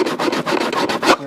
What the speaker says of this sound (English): I'm going to take some sandpaper and I'm just going